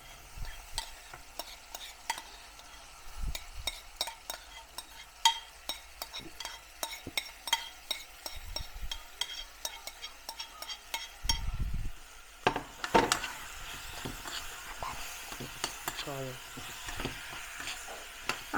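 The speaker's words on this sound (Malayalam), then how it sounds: "ഇത് നന്നായി ഇളക്കുന്നു. ഇതിപ്പോൾ ഏകദേശം ഒരു പച്ചമണമൊക്കെ മാറി നമ്മുടെ പൊടികളൊക്കെ മൂത്ത് വരുന്നു." Spice powders fry in oil for an apple pickle while a spoon stirs and scrapes the pan in frequent sharp knocks over a soft, low sizzle, growing busier toward the end.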